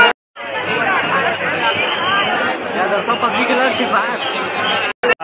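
A dense crowd chatters at the Lalbaugcha Raja darshan in Mumbai at night, a close, loud, continuous hubbub of many overlapping voices that cuts off abruptly near the end.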